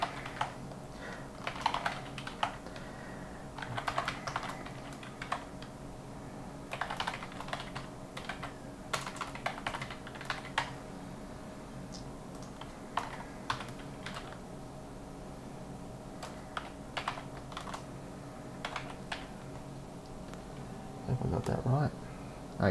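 Computer keyboard being typed on while filling in an online registration form, with quick bursts of keystrokes separated by pauses over a steady low electrical hum in a quiet room.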